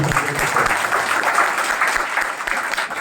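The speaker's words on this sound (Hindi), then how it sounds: "जोरदार तालियां" Loud, continuous applause from a crowd at a Congress party public rally in Wazirpur, a dense, steady clapping that fills the whole moment.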